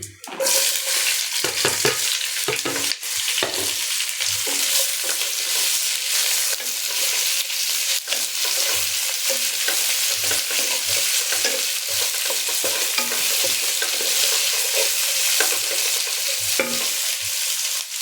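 Onion and garlic frying in a pan, a loud steady sizzle with frequent scraping stirs and utensil knocks throughout, no talking.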